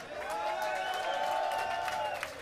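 Crowd at a German punk concert in Nürnberg breaks into applause and cheering, a dense sustained wash of clapping with voices mixed in, steady and loud for a couple of seconds.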